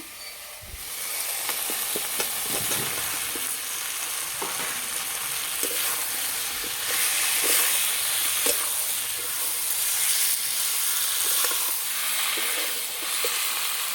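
Spice paste being sautéed with a little water for an egg and potato curry, a loud continuous hissing sizzle with scattered spatters and stirring scrapes, close up and without talk.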